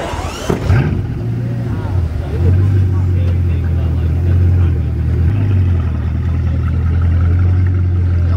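A Bugatti Chiron hypercar's engine rumbling close by, a loud, steady low drone that swells and shifts as it revs, with people talking over it.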